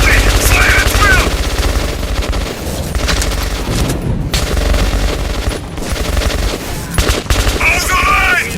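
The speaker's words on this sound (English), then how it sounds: "Fire at will!" Sustained automatic gunfire from soldiers in a Metro 2033 firefight, loud and near, with dense rattling bursts, heavy booms and brief lulls, shouted voices mixed in.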